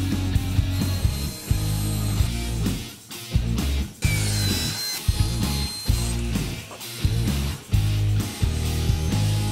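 Wood is sawn in repeated rhythmic strokes, close and loud, with brief pauses between bursts of rasping cuts.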